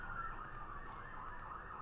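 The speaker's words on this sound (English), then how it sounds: "We got an ambulance on their way out now" An ambulance siren wails in a steady, repeating rise and fall at a moderate distance, continuous and alone against a quiet background.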